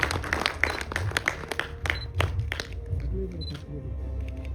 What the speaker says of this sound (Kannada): ಎಷ್ಟು ಜೋರಾದ ಚಪ್ಪಾಳೆ ಬರಬೇಕು.